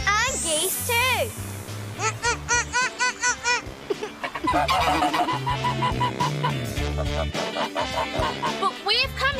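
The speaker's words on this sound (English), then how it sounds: "And geese too." Geese on the Gas Street Canal in Birmingham City Centre honking repeatedly in loud nasal calls, mixed with clucking fowl, children's voices and music.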